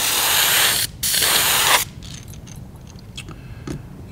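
An airbrush blowing leftover paint off a fishing bait: a loud, steady hiss of air that breaks off briefly, resumes, then stops, leaving quiet clicks and faint handling sounds.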